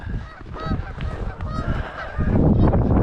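A flock of geese honks repeatedly along the icy Lake Ontario shore near Point Breeze, overlapping nasal calls close and loud, with a rising wash of wind or water toward the end.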